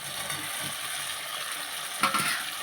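Fried potatoes are stirred and sautéed with spice paste in a pan, a steady close sizzle with a sharp metallic scrape and clatter of the spoon near the end.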